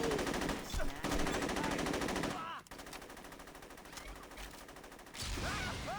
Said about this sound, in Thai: ใครสั่งใครสอนให้ยิง RPG ในนี้วะเนี่ย